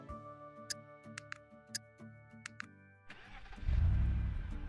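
A delivery vehicle in the brewery management game Brewer starts up with a burst of engine noise and pulls away, loud and close, after a stretch of steady music with sharp game clicks.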